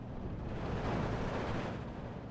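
Rumbling explosions from a bombing run in the video game Steel Division 2, a dense, continuous low roar of blasts filling the whole stretch, loud and close with no talk.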